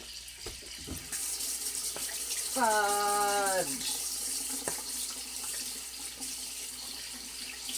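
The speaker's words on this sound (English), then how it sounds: "I need cold water." A kitchen tap gushes cold water in a steady hiss into a sink for several seconds, with a short exclamation and a brief hum partway through.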